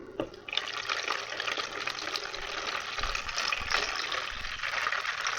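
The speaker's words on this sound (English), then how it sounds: "Look, I just pour it." Rinse water poured by hand from a container over a batch of ORMUS made from Dead Sea salt, producing a steady, close, continuous splashing stream that runs the whole time with no talking.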